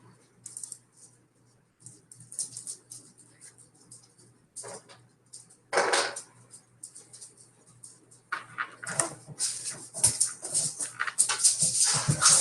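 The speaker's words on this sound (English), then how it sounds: "My dog's driving me crazy right now." A dog whimpers in short, uneven bursts, close by and indoors, with quiet gaps between the whines and a few faint clicks like keyboard taps.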